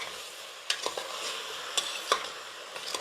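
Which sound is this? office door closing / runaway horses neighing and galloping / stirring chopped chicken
stirring chopped chicken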